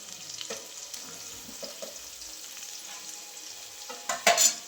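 Onion and garlic fry in a pan with cumin, making a soft continuous sizzle broken by a few light utensil clicks, then a louder burst of sizzling and clatter near the end, close with no voices.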